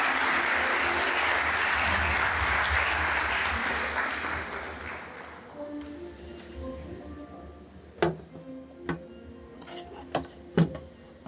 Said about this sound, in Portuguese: Eu peço uma salva de palmas para chamarmos ao palco Peter Heffernan.